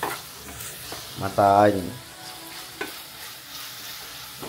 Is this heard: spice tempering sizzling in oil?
yes